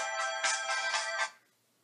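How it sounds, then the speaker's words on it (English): A default phone text message tone rings out alone, a bright chiming melody of several quick notes lasting just over a second before fading into silence. "I have different text tones for different people, but this one's just my default."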